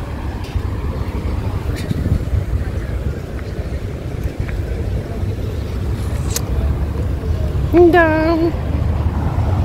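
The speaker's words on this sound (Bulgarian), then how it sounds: "Разходка с лодка." A boat ride in Sicily gives a steady low engine rumble mixed with wind buffeting throughout, and a voice briefly speaks near the end.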